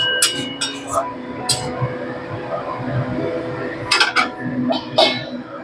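A metal lid is set onto a cooking pot of simmering egg posto, giving several sharp clinks and clatters spaced across the moment, over a low kitchen background with a voice talking.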